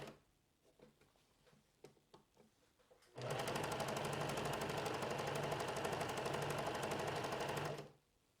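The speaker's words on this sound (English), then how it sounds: "You take your back and you put the right sides together, and we're going to sew it together lengthwise." A home sewing machine stitches the back seam of a top with right sides together, a few soft handling clicks giving way to a close, steady rapid whir of stitching that runs for several seconds, then stops.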